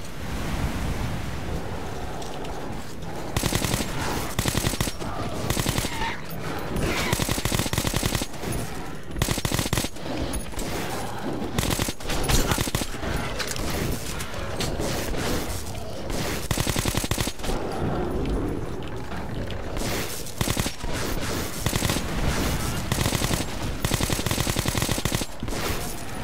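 Gunfire from shotguns and other weapons in the video game Metro 2033 Redux, loud and sustained, with dense rapid bursts and blasts running the whole time and no talk.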